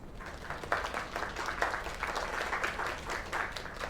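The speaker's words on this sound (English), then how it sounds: "Another round of applause." Lively crowd applause in a game scene at a lake, steady dense clapping with some louder individual claps standing out, continuing evenly throughout.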